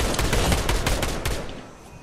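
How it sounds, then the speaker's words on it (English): Rapid gunfire from a shooting exchange in the video game Fortnite, a dense burst of repeated shots in the first half that thins and fades over about two seconds, with no talk over it. "Someone's shooting at me."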